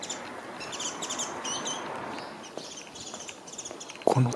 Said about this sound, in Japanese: この鳥の鳴き声なんでしょうね。